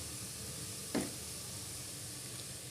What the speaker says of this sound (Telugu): ఉల్లిపాయ ముక్కలు బాగా ఫ్రై అయిపోయాయండి